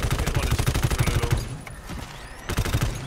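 Rapid, loud automatic gunfire in the video game GTFO rattles in dense, even bursts, drops out briefly, then resumes sharply near the end.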